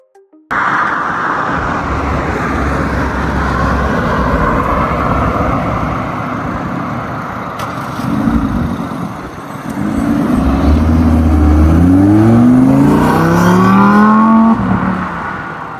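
An Audi R8 V10 supercar drives past with a loud, sustained engine roar, then revs hard with rising, climbing pitch sweeps as it accelerates close by.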